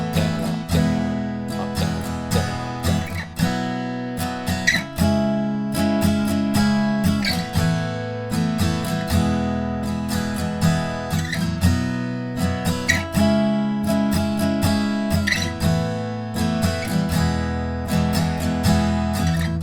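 An acoustic guitar strums the chorus chord progression of a pop song without a capo. The strumming pattern is steady and rhythmic, the guitar sounds close and full, and no one speaks over it.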